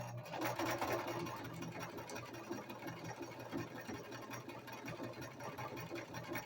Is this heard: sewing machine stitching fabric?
yes